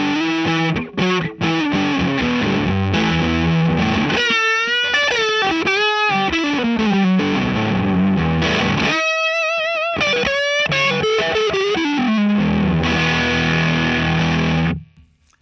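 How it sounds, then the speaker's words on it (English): Electric guitar through a Line 6 VP4 fuzz octave preset, Octavia, on the neck pickup: a buzzy, distorted tone with a doubled octave shimmer, single notes and bends played continuously and loudly, with short pauses, no voices. "there's a nice fuzz octave on here, so good neck type pickup"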